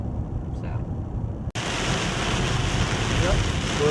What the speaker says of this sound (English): That's rain right there falling.